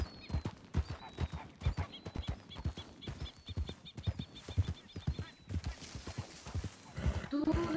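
Horse hooves clip-clop steadily during riding in a ranch role-play video game, a brisk rhythmic patter of hoof beats with faint bird calls, a brief whinny near the end and people talking over it.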